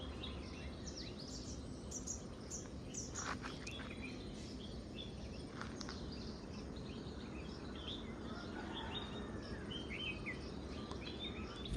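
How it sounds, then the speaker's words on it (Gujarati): Sparrows chirp in the morning in a village, with scattered faint calls over a steady hum of crickets and insects, fairly distant and quiet with no talk. "સવારમાં છે ને ગાઈસ તમે આગલા વિડીયોમાં જોયું હશે કે ચકલાનો અવાજ, તો જો પાછો મેં તમને સંભળાવું ખાલી."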